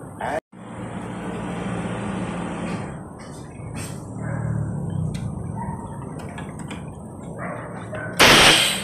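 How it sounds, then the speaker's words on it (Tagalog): A San Francisco F-Market Street trolley's steady engine rumble and road noise, then a sudden loud hiss of air as it stops and its doors open, with faint voices. "yung nag-stop yung bus tapos nung bumukas, ganun talaga yung tunog"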